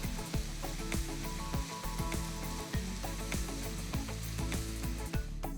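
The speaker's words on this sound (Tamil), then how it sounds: "வெங்காயம் வறுப்பட்டதும் 1 டீஸ்பூன் அளவுக்கு இஞ்சி பூண்டு விழுது சேர்த்து வதக்குங்க." Onions frying with ginger garlic paste in a pan on a low-flame stove for hariyali egg curry, a loud continuous sizzle broken by regular stirring scrapes.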